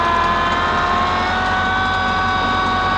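A loud, steady machine roar with a high whine and low engine rumble runs without pause from a tractor-mounted MK Martin Meteor inverted snow blower clearing snow nearby.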